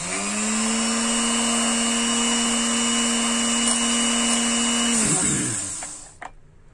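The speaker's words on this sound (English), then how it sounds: "Just clean the burrs." A small power tool whines at a steady high pitch while cleaning burrs off a freshly cut screw, running continuously for about five seconds before spinning down and stopping with a few faint clicks.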